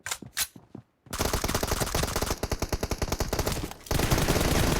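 Gunfire in PUBG Mobile team deathmatch: a few sharp separate shots are followed by a long burst of rapid automatic fire, then sustained loud shooting.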